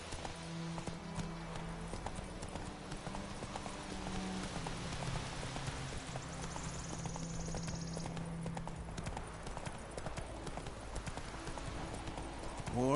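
Horse hooves clip-clop at a steady galloping rhythm in The Witcher 3 Wild Hunt, continuous and moderately close, with faint voices talking underneath.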